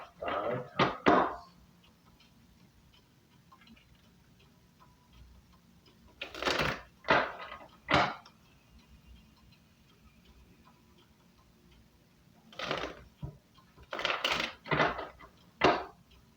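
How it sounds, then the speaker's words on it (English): A deck of tarot cards is shuffled in short, crisp riffling bursts, grouped in clusters separated by quiet pauses, close and fairly soft, with no talk. "So we're going to shuffle these cards 5 times."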